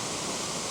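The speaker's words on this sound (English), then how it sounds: "Very nice waterfall." Chatterbox Falls, a tall Alaskan waterfall with a heavy flow of water, roars as a dense, steady broadband rush, loud and close with no break and no voices.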